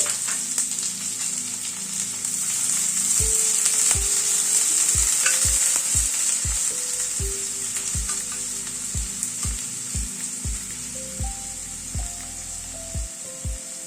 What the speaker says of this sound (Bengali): এখানে 2টো ছোট ছোট পেঁয়াজ কেটে নিয়েছি, পেঁয়াজটাকে আগে ভেজে নিচ্ছি।